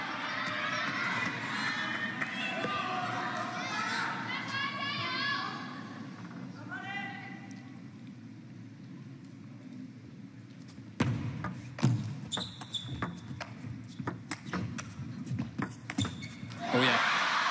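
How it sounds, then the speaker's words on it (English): Fans at a women's table tennis match at the WTT Champions in Yokohama make crowd noise and scattered shouts as tension builds. Sharp ball and paddle clicks come through the noise, and the crowd swells louder and more excited toward the end. "You can hear the crowd and the tension starting to build."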